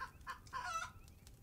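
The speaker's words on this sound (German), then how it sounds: "Oh, neues Küken." A chick in the video game Primitive Society Simulator gives a few quick, close clucks and chirps in short bursts.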